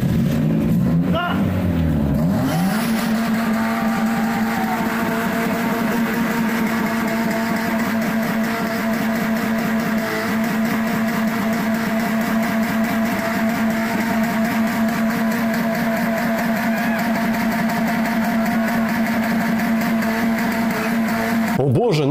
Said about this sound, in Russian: на этот раз колеса шлифуют